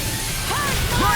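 Rising Wyvern attack in the video game Tales of Arise lands with a crashing, whooshing impact, a short burst of hits over dense battle noise, with voices shouting underneath.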